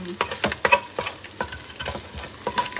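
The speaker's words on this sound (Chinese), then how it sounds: "蛋就煎緊啦，炒緊香啦" Egg frying in a wok for Chinese sausage fried kuay teow, with close, crackling sizzle and repeated scraping stirs of a spatula against the metal, no voices.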